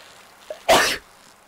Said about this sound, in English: I think I sneezed almost right into the microphone there